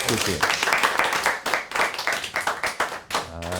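A studio class audience of about seventy-two gives thin, scattered hand clapping that rises and falls in short bursts, with a voice speaking over it near the end.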